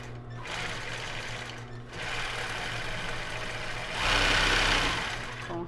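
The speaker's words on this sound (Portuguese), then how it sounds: "E vou colocar o zigue-zague do acabamento" A sewing machine runs in steady bursts while stitching a zigzag finishing seam on a plus-size bra with raw Jaraguá elastic, pausing briefly and then speeding up louder near the end, with no talk.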